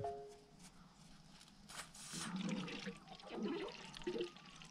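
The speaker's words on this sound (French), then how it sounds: "Et attendre donc que le liquide s'écoule par ici. Donc voilà, là mon liquide s'écoule." Coolant trickling out of an opened bleed screw while bleeding the cooling system of a Renault Mégane, a faint, uneven gurgle and splash of liquid heard up close in a quiet garage.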